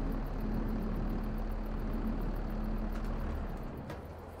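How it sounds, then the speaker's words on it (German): Tractor engine in Farming Simulator 22 idling steadily with a low, continuous rumble and hum, loud and even throughout, tapering off slightly near the end. "Ich hab doch gerade den Motor gestartet."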